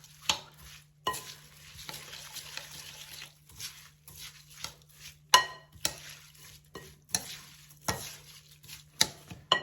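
A spoon works through a dolmades filling mixed with fresh dill in a bowl, giving soft, wet, squelching strokes in irregular bursts with scrapes and clinks against the side, close and quiet with pauses between the movements.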